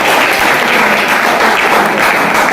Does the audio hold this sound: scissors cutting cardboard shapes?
no